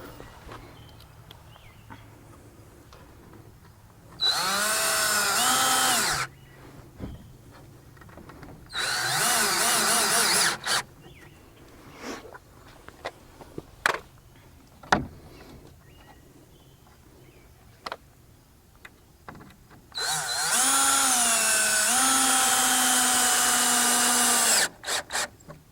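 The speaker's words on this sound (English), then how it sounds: "So all you do is take a screw, put it in the board, through the bracket." Power drill driving screws through brackets into boards while installing a backyard ice rink on a hard surface; three loud whirring bursts, two short and one longer, with quiet pauses and scattered clicks between them.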